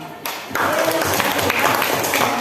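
Classroom applause during a civics lesson, a brief quiet lead-in followed by students clapping together in a dense, steady patter that stays fairly loud until the end.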